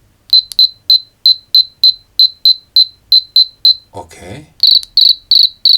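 A cheap AliExpress sound module set to its cockroach setting gives loud, rapid, evenly spaced insect-like chirps, pausing briefly while a person says a word, then resuming.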